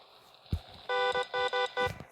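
A synthetic car horn in the video game Car Parking beeps in four quick electronic bursts after a soft thump, toned and buzzy, loud and close with brief gaps between honks.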